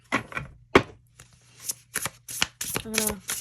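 Tarot cards are shuffled in short, crisp bursts of riffling and slapping, uneven in rhythm and close up, with brief gaps between handfuls.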